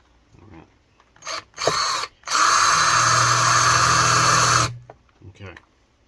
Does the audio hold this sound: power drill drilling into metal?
yes